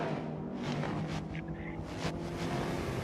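Race cars in the Junkyard Racing Digital video game roar past in a steady, loud engine drone with brief whooshes as they corner.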